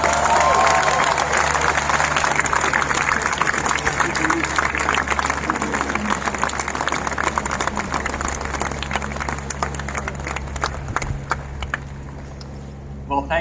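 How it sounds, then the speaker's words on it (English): A Stanford commencement crowd applauds Netflix co-CEO Reed Hastings, the keynote speaker, with sustained loud clapping and some cheering that carries on for the full stretch and eases slightly toward the close, with a faint murmur of voices mixed in. "Please join me in another round of applause for Reed Hastings."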